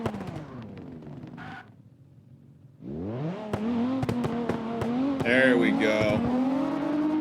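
Drift cars in CarX rev and pull away, one engine dying off before several rise in pitch together with sharp bursts and a brief tire squeal, while someone speaks briefly over them.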